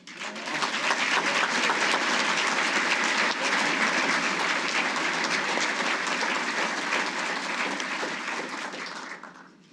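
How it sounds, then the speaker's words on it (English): Sustained audience applause at an annual agency awards ceremony, a dense, loud burst of many hands clapping for nearly ten seconds before tapering off. "One more round of applause."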